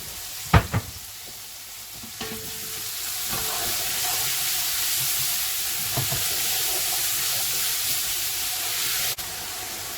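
Peas are stirred into chilli con carne in a pot, with a steady frying sizzle and hiss throughout, a few sharp clanks of a spoon against the pot near the start, then occasional soft scrapes, close and alone.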